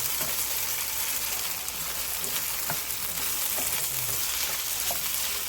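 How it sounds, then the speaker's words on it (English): Chicken fried rice sizzles and crackles steadily in a pan over very high heat, a dense close frying hiss with occasional light stirring clicks and no talking. "I just need my rice to fry up just a little bit more."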